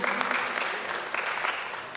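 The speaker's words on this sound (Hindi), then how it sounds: "एक बार इनके सम्मान में तालियां बजा दीजिएगा" An audience at a Kavi Darbar poetry event in Australia applauds, a dense, steady round of clapping that fills the whole stretch and fades slightly toward the end.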